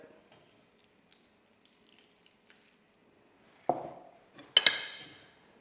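Mostly quiet, then a metallic clank and ringing clatter of a pot or utensils while making Moroccan chicken tagine with couscous, followed by a brief splash of water near the end.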